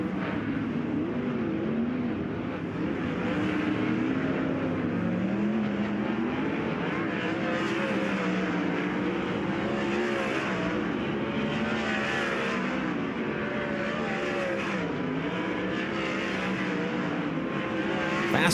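Sprint cars on a hot lap session at Perris Auto Speedway, a dirt oval, roar continuously at full throttle, engine pitch rising and falling as the pack circles, loud and sustained throughout.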